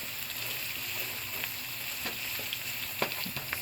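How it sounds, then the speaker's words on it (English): Herbs and onion sauteing in grapeseed oil in a wok give a steady, close sizzle and hiss with occasional sharp pops and crackles, continuous throughout with no talking. "We have all our herbs and our onion sauteing in our wok."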